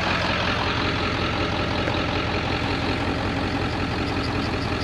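Farm engine running after a jump-start from a dead battery, a loud, steady, low rumbling idle that holds evenly throughout and sounds close.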